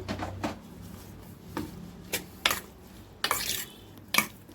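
Half a kilo of chicken being mixed with turmeric and salt in a bowl for chicken pickle, giving irregular clinks, scrapes and stirring knocks spaced a second or so apart.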